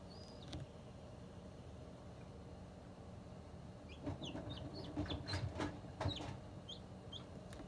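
Easter Egger chicks cheep faintly while hatching, with thin high peeps mostly clustered in the second half over a quiet room hum.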